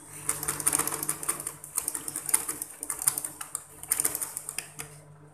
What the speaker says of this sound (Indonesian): Setelah sampai di ujung kita jahit mati atau kita kunci